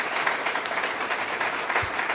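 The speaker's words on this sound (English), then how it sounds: "if we could just give all the residents and tenants a round of applause" Steady audience applause for residents and tenants at a community meeting, a dense wash of many hands clapping continuously and fairly close throughout.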